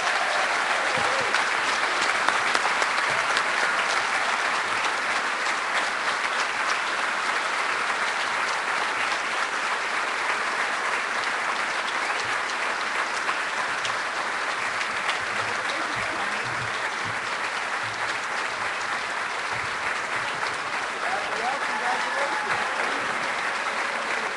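A roomful of guests at an EMS awards dinner keeps up long, steady applause for over twenty seconds, with dense, even clapping that holds a constant level from start to finish and faint crowd murmur underneath.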